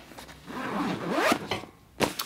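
A zipper pulled open along the main compartment of a laptop backpack with a half-zip design, the zip rasping in several close, quick bursts.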